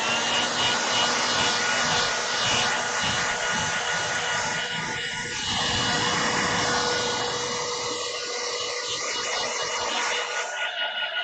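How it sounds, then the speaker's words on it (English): A hair dryer blows continuously at close range drying acrylic varnish on a painting, a steady loud whoosh with a faint whine that runs the whole time before cutting off at the end. "This is starting to look quite shiny, so let me do another hairdryer."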